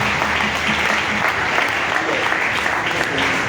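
Church congregation clapping and applauding in praise of the Lord during a French-language worship service, a dense, steady wash of many hands close by for the whole stretch, with faint crowd voices underneath.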